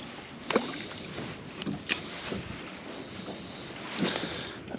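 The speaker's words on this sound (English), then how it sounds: "That wind might kill me though." Wind gusts across a lake while someone fishes for crappie from a small boat, making a soft, steady rush. Brief knocks and splashy clatters from the boat break through the gusting at a few moments, all at a fairly quiet level.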